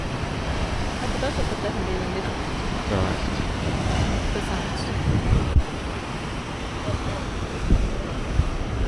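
Ocean waves crash against rocky shore on Hawaii Island, a continuous loud roaring wash with heavy wind buffeting the microphone and a few sharper splashes near the end.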